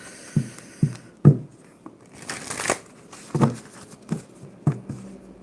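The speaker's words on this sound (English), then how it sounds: "I've got to do another shuffle again." Tarot cards being shuffled in a series of short riffling and tapping bursts, close and fairly loud, with soft rustling between them.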